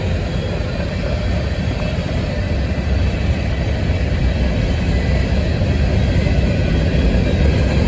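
Norfolk Southern freight locomotives rumble steadily past at close range in Cincinnati, a continuous heavy roar of engines and wheels with no break and no voices.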